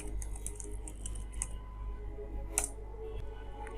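Typing on a computer keyboard, a quick irregular run of light clicks and taps up close, with one sharper keystroke near the end, over a low steady hum and without any speech.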